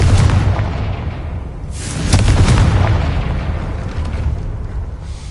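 Blasting-curse explosions from the Confringo spell in the video game Hogwarts Legacy: a loud, rumbling boom opens, a second sharp blast hits about two seconds later, and the deep roar then slowly fades.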